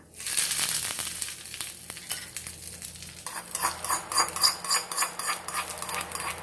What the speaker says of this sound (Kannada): ಈಗ ಸ್ಟವ್ ಆಫ್ ಮಾಡಿಕೊಂಡು ನಾವು ಒಗ್ಗರಣೆನ ಚಟ್ನಿಗೆ ಮಿಕ್ಸ್ ಮಾಡ್ಕೊಂಬೇಡ